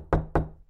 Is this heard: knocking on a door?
yes